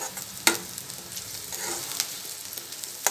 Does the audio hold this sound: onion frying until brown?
yes